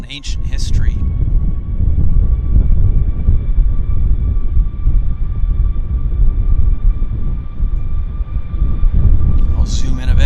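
A WestJet airliner at Vancouver Airport produces a loud, steady engine roar with a sustained high whine that holds for the full stretch, close and continuous.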